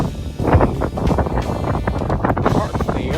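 Cold, strong desert wind buffets the microphone in an open area under a clear sky, a loud continuous rumbling roar with gusty surges, while a person talks over it.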